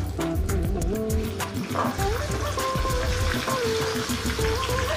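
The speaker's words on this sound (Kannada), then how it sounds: "ಇದರಲ್ಲಿ ಈ ಒಂದು ಅವರೇ ಬೇಳೆನ ಹಾಕೊಳ್ತಾ ಇದ್ದೀನಿ" Field beans (avare bele) dropped into hot oil for a crunchy mixture, sizzling and bubbling steadily up close, with a dense, continuous frying crackle and occasional spatter.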